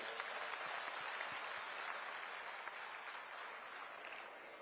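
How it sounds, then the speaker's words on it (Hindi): Applause rings out for Shrimati Gayatri Gaywal at a fishermen's community gathering in Raigarh: a soft, sustained wash of clapping from a crowd at some distance, fading slightly before a sharp bump at the very end. "एक लिए भी तालियां जोरदार भाई"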